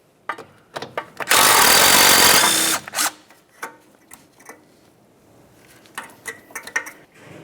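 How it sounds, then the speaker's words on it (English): A power tool spins out a brake hose mounting bolt with a 12mm socket on a 2006-2011 Honda Civic strut, one loud whir of about a second and a half amid scattered metallic clicks and taps. "We'll use a 12mm to remove the mounting bolt."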